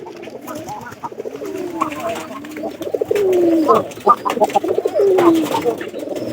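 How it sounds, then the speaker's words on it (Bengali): Pigeon cooing inside a coop box, repeated soft throaty coos rising and falling close by, with other birds calling in the background. "এই যে এক নম্বর ঘরের যে কবুতরটা আছে"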